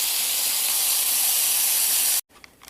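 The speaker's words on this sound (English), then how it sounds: "So I'm just going to continue to fry my bacon" Bacon fries in a pan in a home kitchen, a steady loud sizzling hiss that stops abruptly near the end.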